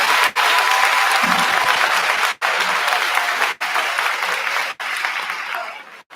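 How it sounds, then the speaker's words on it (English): Graduation ceremony audience giving school staff a round of applause, loud continuous clapping from a large crowd in a hall, steady throughout with brief dropouts. "so let's give them a round of applause."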